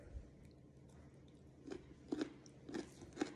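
A pickled carrot being bitten and chewed, a few faint crunchy bites close up, spaced out over quiet background.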